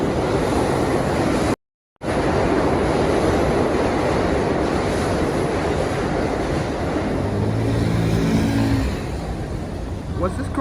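Car traffic on a New York City street near Astor Place, a steady roar of passing engines and road noise dominating throughout, with a short dropout early and a low engine hum rising near the end.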